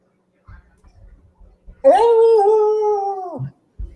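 A dog gives one sustained, wavering howl lasting about a second and a half, close and loud, with soft whimpers and shuffling before it and a brief whine after.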